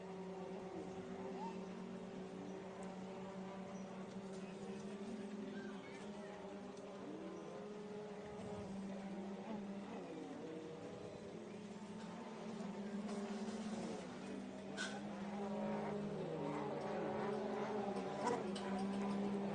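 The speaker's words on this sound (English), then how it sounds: "Good to see this class mixed with the two-stroke mod skis as well, to hear the mix of the different engines out there" Two-stroke watercross mod skis and other personal watercraft race on a course at Paris, Texas, their engines droning and whining continuously at mid distance, pitches rising and falling as the machines pass, with faint talk underneath.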